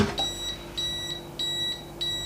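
A baby food cooker's high electronic beep repeats four times in an even rhythm, close and clear over a low steady hum.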